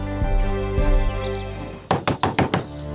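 Someone raps on a bathroom door with five quick, sharp knocks in a row, following a stretch of sustained background music.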